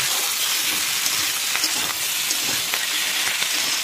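Prawns with onion greens (piyajkoli) frying dry over a high flame, giving a steady, loud, dense sizzle with occasional crackles and pops throughout, no voices.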